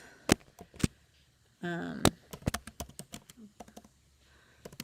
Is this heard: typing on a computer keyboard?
yes